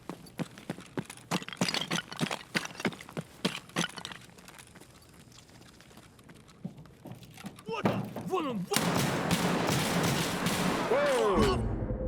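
Gunfire in the video game Escape from Tarkov: a rapid series of sharp shots in the first half, then louder, denser combat noise with a voice talking throughout.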